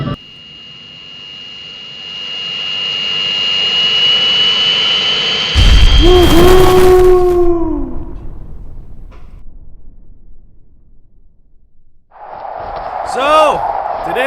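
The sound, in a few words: burning airplane jet engine sound effect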